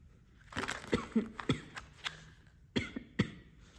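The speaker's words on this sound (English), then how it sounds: "Excuse my coughing, everybody." A handful of short, sharp coughs in two bouts, close and fairly loud, with brief pauses between them.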